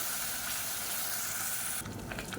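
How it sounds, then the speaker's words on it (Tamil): A soft, steady sizzle of masala paste sautéing in a pan over medium flame, with a brief stirring scrape near the end; quiet and close. "சேர்த்துட்டு மீடியமான ஃப்ளேமில் வதக்கி விட்டுக்கலாம்."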